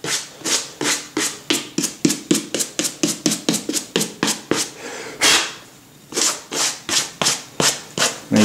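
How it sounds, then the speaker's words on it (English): Bristle brush stroked briskly over dusty suede leather boots, a steady run of about twenty short rhythmic scrubbing strokes, close and fairly loud, with one brief pause near the end before the brushing resumes. "you want to go ahead and brush off any dirt that may still be on there"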